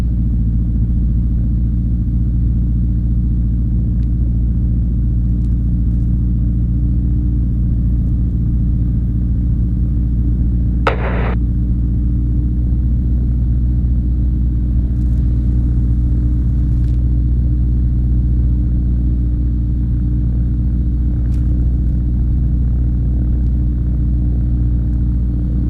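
A gyroplane engine idles steadily in flight, a constant low droning rumble that stays even throughout, with one brief sharp click partway through and no speech.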